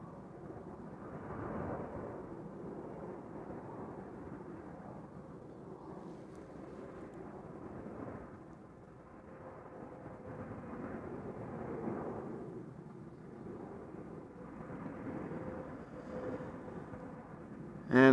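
An airplane departs Amsterdam Schiphol Airport, a steady distant jet roar that swells and fades gently, filling the background for the whole stretch with no voices.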